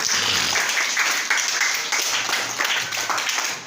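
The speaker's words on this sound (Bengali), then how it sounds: "সাকওয়াতের জন্য জোরে একটা হাতে তালি" Schoolchildren in a primary school classroom clapping for a classmate, a loud burst of many small hands clapping together in a steady patter, with no voices over it.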